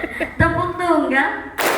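Schoolchildren at an elementary school clap once together in a short, sharp burst near the end, after an adult's voice speaks over a busy classroom.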